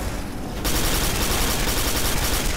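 Sustained automatic weapon fire in the sci-fi shooter Quake IV bursts in loud and close after a brief quieter moment, then runs as a dense, continuous rattle.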